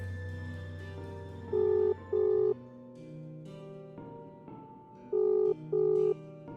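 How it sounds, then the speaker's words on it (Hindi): A telephone call rings back in a ghost story: repeated paired electronic ring tones sound in two bursts over a droning musical background. "वो उसे वापस कॉल लगाता है।"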